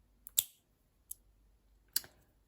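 Gel X flexy nail tips being clipped shorter with a nail cutter: three sharp, close snips spaced about a second apart, the first and last louder, with near silence between them.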